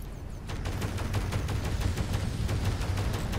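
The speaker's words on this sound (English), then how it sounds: "Let's go ahead and throw some missiles his way." Missile fire in the space combat game Fractured Space, a rapid even train of sharp pops, roughly a dozen launches in quick succession, over a constant low rumbling engine drone at moderate volume.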